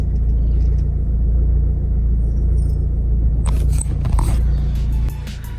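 A Vauxhall Astra 1.7 TDCi diesel runs nearby with a loud, steady low rumble that rises and surges partway through, with rattly clatter, then drops to a quieter idle near the end.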